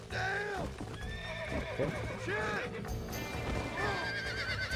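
A horse in the Red Dead Redemption video game neighing several times with hoofbeats clip-clopping underneath, close and clear, over game music, with a brief spoken word.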